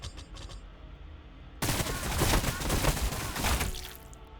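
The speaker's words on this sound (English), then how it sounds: "The sound of our guns will herald their death." Heavy automatic gunfire erupts suddenly and keeps going in a dense, rattling burst during a Warhammer Battlesector battle, loud and continuous after a brief quieter stretch.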